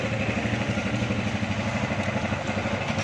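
A Honda Rebel 250 twin-cylinder motorcycle, two pistons and two exhausts, idles with a steady, even chugging, close and continuous.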